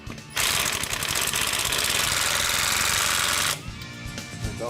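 An impact wrench rattles hard and loud for about three seconds as it runs a lug nut onto a car wheel, then cuts off to a lower hum.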